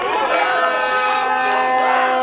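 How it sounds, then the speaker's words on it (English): A crowd at a boxing fight cheers and murmurs in a loud, continuous, reverberant wash of voices, with a commentator-like voice blending into the din. "You can hear the crowd are really enjoying this fight."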